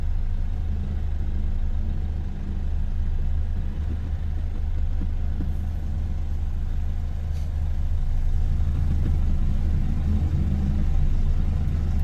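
A car stuck on rocks in a river gives off a low, continuous engine rumble, close and steady, with slight swells in loudness and no talk.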